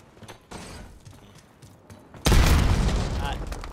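A frag grenade goes off in Call of Duty Black Ops 6 multiplayer, a sudden loud close boom that cuts through quieter game noise and leaves a rumbling wash behind it.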